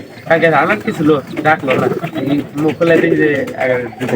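Pigeons coo nearby, loud, rounded throaty calls repeating in quick rolling phrases that fill the whole stretch without pause.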